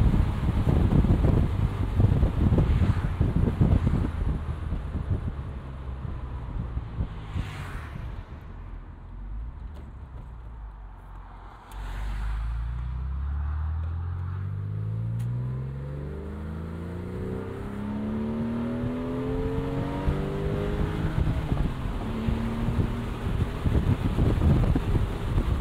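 Porsche 911 996 Carrera convertible driving at night with the top down, its flat-six engine droning and rising through gears with sweeping pitch changes, steady wind rush throughout and no talk.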